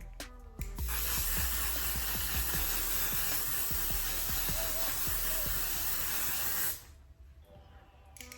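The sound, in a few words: spraying setting spray on face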